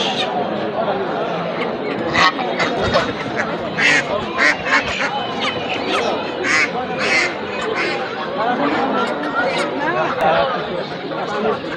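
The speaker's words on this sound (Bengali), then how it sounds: "হাঁস মুরগির অভাব নাই, প্রচুর রাজহাঁস।" Ducks and geese at a village market quack and honk in a dense, continuous din, with people's chatter mixed throughout and frequent sharp calls rising above the crowd.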